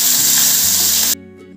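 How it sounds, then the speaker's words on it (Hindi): Jackfruit pieces hit hot oil over a medium-high flame, setting off a loud, steady hiss of frying that cuts off abruptly near the end, leaving a quieter low hum. "मैं अपने कटहल को इसमें डाल दूंगी और इसे मीडियम हाई फ्लेम में 2 से 3 मिनट अच्छे से फ्राई करूंगी"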